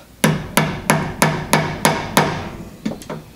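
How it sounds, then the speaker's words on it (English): A hammer strikes a sharp nail's tip to blunt it before nailing wood for a beehive open mesh floor: seven evenly spaced sharp knocks, then two lighter taps, close and clear with no talk. "Hit the nail so that nail isn't as sharp anymore"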